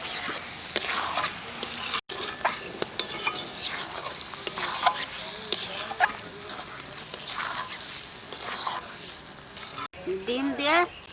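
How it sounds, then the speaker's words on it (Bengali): Egg cooking in a pan with cashews, a steady frying hiss with repeated scraping and clinks of a utensil stirring against the pan, close and continuous, with brief gaps near the start and end. "কাজু বাদাম দিয়ে একটু গাটাইয়ে ডিমটা দিয়ে দেবো।"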